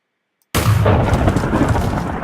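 A Minecraft weapon mod gun fired at a villager: one abrupt, loud blast after a moment of silence, followed by a long rumbling boom that holds steady to the end.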